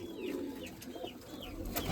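Domestic pigeons kept by a pigeon fancier coo softly in a loft, with a few repeated, fairly quiet calls over low background hum.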